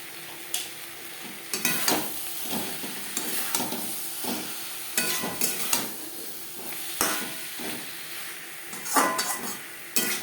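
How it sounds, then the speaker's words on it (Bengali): Pointed gourd frying in a pan with ground roasted cumin, coriander, bay leaf and dried chilli, giving a steady low sizzle broken by repeated scraping stirs and metallic clinks of the spoon against the pan. "মশলার সাথে পটল বেশ ভালো করে কষিয়ে নেওয়া হয়ে গেছে"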